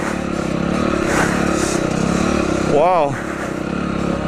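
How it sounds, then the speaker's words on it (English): Yamaha TTR 125 dirt bike engine revving as a first-time rider twists the throttle at Kahuku, Hawaii, a steady buzzing drone with a sharp rising rev burst near the end; a voice exclaims over it. "Riding the TTR 125."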